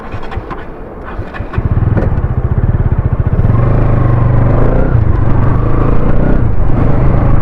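A Bajaj Pulsar NS200 motorcycle rides along close and loud, its engine settling into a steady, throbbing rumble after a brief quieter start and holding there without speech.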